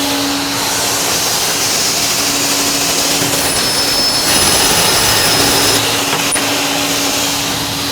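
A power saw cuts a cabinet panel with a loud, steady whining roar that holds at the same level for about eight seconds, with no voices over it.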